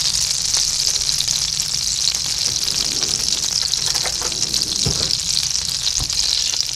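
Chicken cutlets sizzle steadily in melted butter in a pan, a loud, continuous close-up frying hiss with occasional faint pops and no talking.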